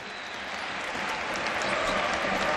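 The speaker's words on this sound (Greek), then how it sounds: "τα χειροκροτήματα καθολικά πλέον εδώ από τους φίλους ΑΕΚ" AEK basketball fans applauding in an arena during a game, a dense, even wash of clapping from a large crowd that swells slightly and continues without a break.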